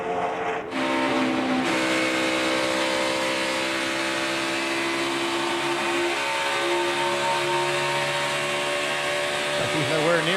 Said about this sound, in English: Dale Jr. is on a flying lap here.